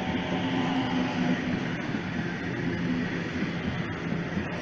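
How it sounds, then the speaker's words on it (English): A Sydney Homebush service train pulls into platform 2 at Macdonaldtown station, a steady, loud rumble of wheels and motors with faint squeals, no talking. "We have a homebush service arriving on platform number 2."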